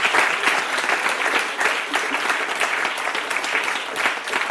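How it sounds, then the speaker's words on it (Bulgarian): Studio audience applauding on a Bulgarian TV show, dense sustained clapping from a large crowd, loud and steady with no talk over it. "Аплодисменти а Яна."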